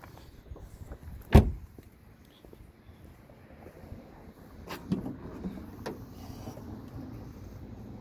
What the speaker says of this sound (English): opening your hood